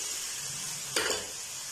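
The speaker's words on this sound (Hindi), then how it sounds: "यहाँ हमारी सब्जियाँ और मसाले अच्छी तरह भून गए हैं, एक मिनट के लिए मसाले को भून लिया।" Vegetables and spices frying in a pan for masala vegetable noodles, a steady close sizzle with a brief louder stir or scrape partway through.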